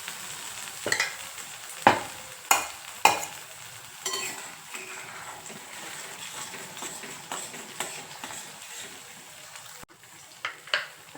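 Homemade gravy for a spiced paneer curry hits a little hot oil in the pan, giving a steady low sizzle with several sharp clatters of a spoon stirring against the pan.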